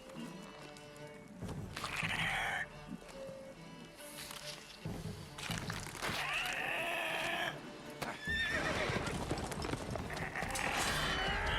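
A horse in The Witcher 3 video game whinnies several times amid clattering hooves and game effects, loud and close, with rising and falling neighs.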